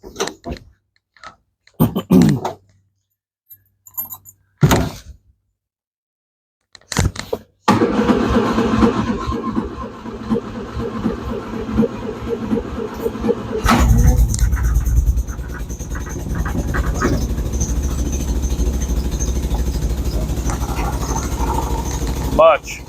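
A 1961 Nash AMC Metropolitan barn find with a rebuilt fuel pump and an exhaust leak cranks in short bursts between pauses, then catches and settles into a steady, rough idle that runs on under occasional voices.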